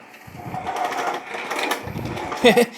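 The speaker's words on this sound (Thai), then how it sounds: "นี่คือการทดสอบนะครับ ในส่วนของตัวพัดลมนะครับ หมุนตามคนหาคน อัตโนมัตินะครับ" A DC gear motor drives an automatic person-tracking fan, giving a steady, close mechanical whir throughout with a brief louder surge near the end; faint voices may sit underneath.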